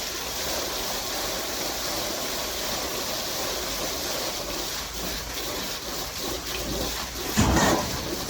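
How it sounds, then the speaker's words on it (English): Steady broadband rush of falling water from a two-ring digital water curtain fountain in Dubai, continuous and fairly loud throughout, with a brief louder splash or thud near the end. "Digital water curtain can display the words, logo and patterns by the falling water."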